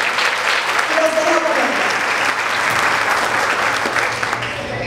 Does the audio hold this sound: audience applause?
yes